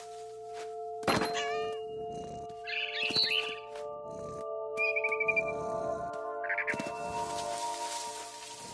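A cat in What Remains of Edith Finch meows and yowls in several separate calls, mixed with thumps and high chirps over a sustained musical tone.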